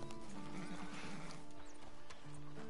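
Horse hooves clip-clop at a slow walk inside a camp in the video game Red Dead Redemption, light, fairly quiet steps amid game ambience and a faint tonal music bed.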